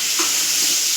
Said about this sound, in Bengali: এইটা ভাজা হচ্ছে